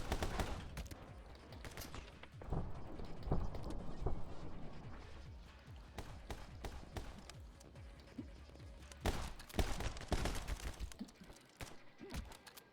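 Uzi fire in the action game My Friend Pedro, with dense rapid bursts of automatic gunshots and impacts running nearly throughout, loudest in heavy volleys near the middle and toward the end.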